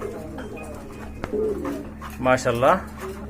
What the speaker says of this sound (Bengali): এটা হচ্ছে সিরাজি কবুতর